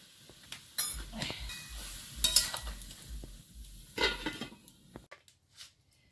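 Koi fish frying in a pan, with a steady sizzle under intermittent stirring scrapes and clatters that fall quiet near the end.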